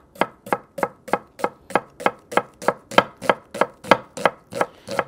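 A knife chopping a vegetable onion into half rings on a board, seventeen evenly spaced crisp chops at a brisk steady rhythm, close and clear with no talking.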